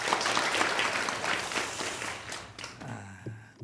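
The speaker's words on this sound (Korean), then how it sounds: "우리 성가대원들 감사한 마음으로 박수 한 번 더 드렸으면" A church congregation at a Wednesday service applauds the choir, a broad patter of clapping that gradually thins and dies away, followed by faint room sounds.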